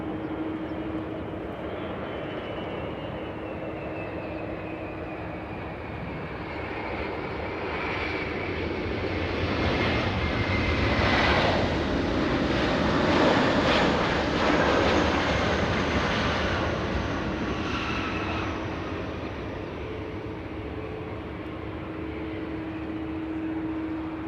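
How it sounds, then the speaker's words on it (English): A Delta Boeing 767 arrives at LAX from Salt Lake City. Its jet engine roar swells and peaks near the middle, carrying a whining tonal hum, then eases off as it passes. The sound is moderately loud and alone, with no voices. "Let's go to the 767 flying in from Salt Lake City today."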